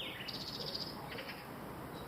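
Faint, high bird calls come in a few quick warbling bursts over quiet outdoor background noise in Kerpe, Turkey, somewhat distant.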